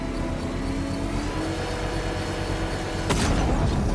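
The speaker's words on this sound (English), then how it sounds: "Bomb destroyed." Bomb blast in the video game Batman: Arkham Knight, a sudden loud broadband burst about three seconds in, rising out of a steady rumbling game soundscape with a continuous tonal hum beneath.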